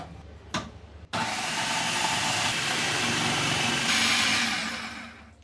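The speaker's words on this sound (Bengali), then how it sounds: "সো এখন এটা আমরা ফুড প্রসেসরে এটাকে গ্রেট করে নেবো" Food processor grating carrots: a short click, then the motor kicks in with a loud, steady whirring grind that holds before tapering off at the end.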